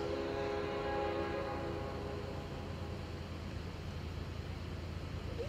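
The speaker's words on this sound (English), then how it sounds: "Look at that unit train coming" A CSX coke unit freight train rumbles steadily at speed with a faint horn tone fading early, a continuous low roar of heavy rail cars rolling by.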